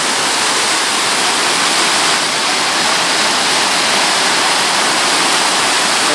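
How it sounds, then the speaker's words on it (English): A river rushes through the middle of the village at Betws-y-coed, a loud, unbroken roar of tumbling water that stays close and steady throughout, with no voices over it. "this is where the river comes down to"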